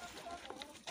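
Chickens clucking as they feed on cabbage in a poultry yard shared with ducks and geese, a steady close cackle with a few sharper calls and a louder burst at the end.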